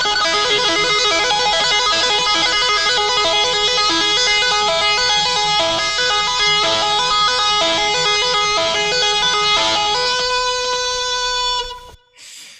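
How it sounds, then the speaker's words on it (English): A fast, continuous cascade of bright electric guitar notes from two-hand tapping, loud and even, with a final note ringing out alone. "a few variations on the two-hand tapping technique"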